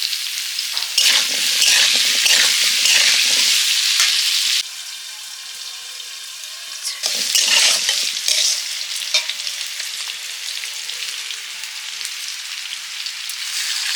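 Small round potatoes fry with salt in hot oil, a bright continuous sizzle with stirring scrapes, dipping briefly quieter midway before surging again and settling to a steady crackle.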